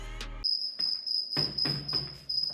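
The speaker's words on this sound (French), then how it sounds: "L'Espagnol Alvaro devient chasseur de grillons" Crickets chirp in a steady, high, continuous trill, loud and close, with bursts of broader noise breaking in over it.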